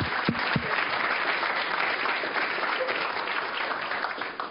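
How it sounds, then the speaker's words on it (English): A crowd at an economic development gathering gives a dense, continuous round of applause, loud and even from start to finish before fading slightly at the end. "Please give yourself a round of applause"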